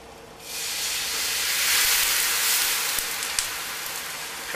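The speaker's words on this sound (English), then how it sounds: "We're deglazing the pan." A splash of Chardonnay hits a hot pan with shallots to deglaze it, setting off a loud, steady hiss that swells quickly and holds for several seconds, close up with no speech.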